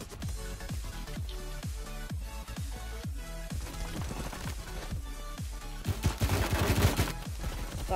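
Rapid bursts of gunfire from the online shooter game Phantom Forces crack out in quick repeated volleys, sharp evenly spaced shots that build to a denser, louder flurry near the end, with no talking.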